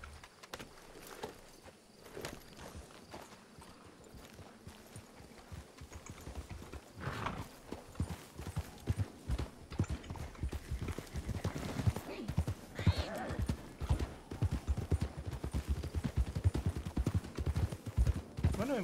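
Horse hooves clip-clop at a steady walking pace in the video game Red Dead Redemption II, with occasional neighs and whinnies; voices talk over the hoofbeats.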